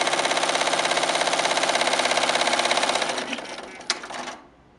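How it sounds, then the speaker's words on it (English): A HAPPY embroidery machine stitches a red marking outline for the second layer of an appliqué, with a rapid, even mechanical chatter that runs loud and steady, then slows, stutters with a sharp click and stops. "the machine now sews the marking stitch, which is in red, for the second shape that will lay on top of"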